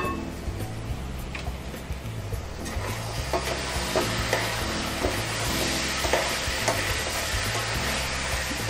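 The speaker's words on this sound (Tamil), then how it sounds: "அந்த வெங்காயம் தக்காளியோடையே தான் மிக்ஸ் பண்ணி விடணும்" Bitter gourd being stirred with onion and tomato in a pan for a gourd thokku, giving a steady frying sizzle broken by scraping spoon strokes and a few light knocks, close and fairly quiet with no talking.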